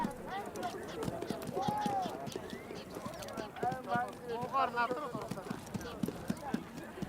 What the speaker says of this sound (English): As 500 horses reach the starting point, and the race begins.